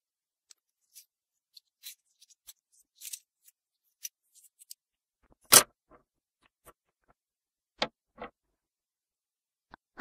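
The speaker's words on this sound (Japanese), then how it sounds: "ハサミ" Scissors being handled while gathering supplies for making a gel candle, giving scattered soft clicks and snips at close range, with one louder snap around the middle and a few light taps spread across a quiet background.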